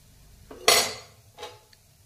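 Freshly fried gulab jamun go into hot sugar syrup, heard as a sharp metallic clink of a utensil against the pan, followed by a softer clink and a tiny tap.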